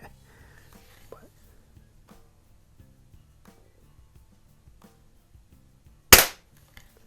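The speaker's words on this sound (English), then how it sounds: "I am shooting this one with some Dynamit Noble wad cutters." A spring air rifle loaded with Dynamit Nobel wadcutter pellets fires a single sharp, loud crack near the end, after quiet faint handling noises.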